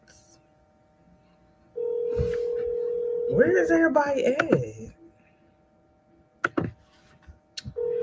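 A phone call rings out unanswered, a steady electronic ringback tone sounding twice with a gap between, while a voice speaks briefly over it and faint clicks follow.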